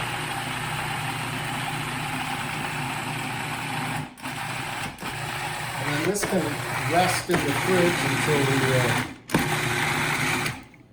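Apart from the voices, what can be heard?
electric mixer mixing persimmon tart filling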